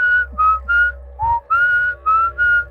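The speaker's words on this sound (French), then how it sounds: "J'entends un sifflement comme ça." A person whistles a short tune of clear, bright notes in quick succession, close and loud, with brief pauses between phrases.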